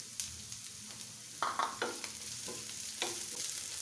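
Chopped carrot, onion and green chili stir-frying in oil in a pan, with a steady sizzle and several louder stirring scrapes and clatters across a few seconds, no voices.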